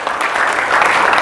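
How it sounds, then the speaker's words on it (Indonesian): A brief, dense burst of clapping from an audience at a talk, loud and even throughout. "Tepuk tangan buat semuanya."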